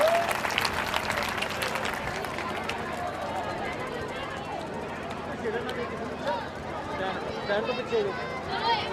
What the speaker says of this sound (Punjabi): ਸਰ ਨੂੰ ਸਨਮਾਨਿਤ ਕੀਤਾ ਜਾਵੇ ਤੇ ਨਾਲ ਤਾੜੀਆਂ ਵੀ ਮਾਰੀਆਂ ਜਾਣ